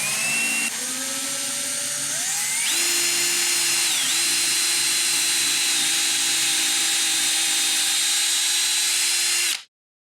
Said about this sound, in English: And let's drill in.